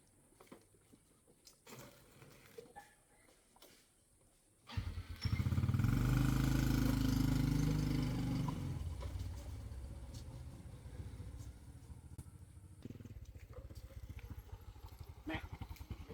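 A motorcycle engine starts up loudly partway through and then keeps running in a steady, close idle, preceded by quieter roadside noise.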